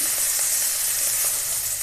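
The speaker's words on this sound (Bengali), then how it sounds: "হালকা ভেজে নিলাম চিংড়িগুলো" Shrimp frying lightly in hot oil, a steady bright sizzle holding close and even throughout, with no voices.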